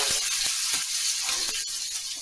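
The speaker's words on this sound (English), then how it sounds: "we're going to put this down in here, and we're going to crumble it fine and fry" Ground beef sizzles steadily in a hot pan, a loud constant crackle with a few sharp scraping taps as it is broken up.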